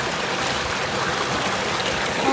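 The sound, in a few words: water flowing from a motor pump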